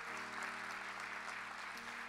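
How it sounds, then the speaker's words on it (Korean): A church congregation applauds newly admitted members in a steady, dense wash of clapping that stays even throughout the brief moment. "다 함께 박수로 축하해 주시기 바랍니다"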